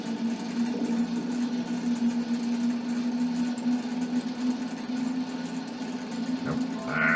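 Aircraft engine in the X-Plane flight simulator throttling up, a steady droning hum that holds loud and constant throughout, with a brief rising whine near the end.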